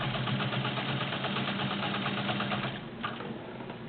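A vintage all-metal JCPenney Penncrest sewing machine with a size 16 needle stitches through six layers of denim, its motor giving a steady, close, continuous whirring hum that eases slightly near the end.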